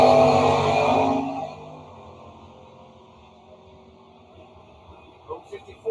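Drag race launch of a 1969 Camaro 350 and a Roadrunner with a 446 engine: loud engine roar fades quickly into the distance, leaving faint background crowd noise and a few thumps near the end.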